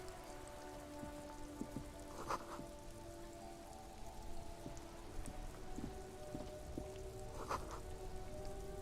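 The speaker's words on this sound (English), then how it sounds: "This rain will not let up anytime soon." Steady video-game rain patters on a surface, with scattered louder drips landing nearby; soft, continuous, and without voices.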